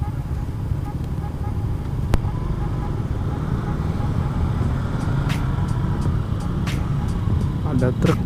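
A truck rolls along a road at night in Alam Sutera, Tangerang, a low continuous rumble of traffic close by with some higher whooshes toward the end, while a person talks over it.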